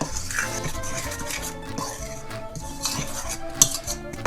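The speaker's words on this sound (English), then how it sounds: "I'll just get those stirred together." A utensil stirs flour, baking powder and salt together in a bowl for pierogi dough, giving steady close scraping and clinking against the bowl with a few sharper taps near the end.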